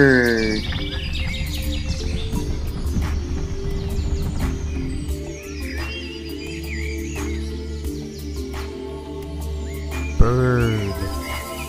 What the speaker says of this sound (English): That's your bird.